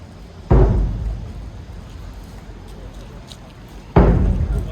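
Two heavy, booming drum strikes sound at the gatekeeper change ceremony of Deoksugung Palace, each a loud close hit that decays slowly, spaced a few seconds apart over a quiet outdoor crowd.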